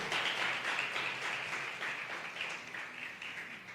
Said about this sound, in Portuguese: Dê um aplauso ao Senhor e glorifique a Ele